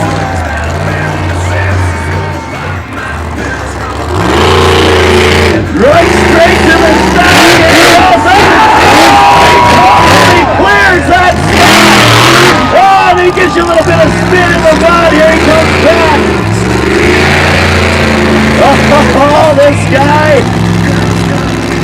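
Monster truck Bounty Hunter, driven by Jimmy Creighton at a Markham monster truck show, revving loudly with rising and falling engine roars over a cheering crowd and an announcer's amplified voice.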